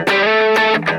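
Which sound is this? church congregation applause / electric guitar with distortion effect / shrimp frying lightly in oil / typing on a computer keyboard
electric guitar with distortion effect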